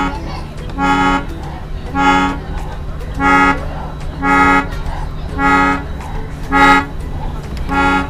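An old portable harmonium box played in repeated pressed chords, about eight loud reedy bursts roughly a second apart, each holding a rich steady tone, with faint background noise between them.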